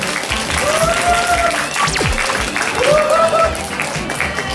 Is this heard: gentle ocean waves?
no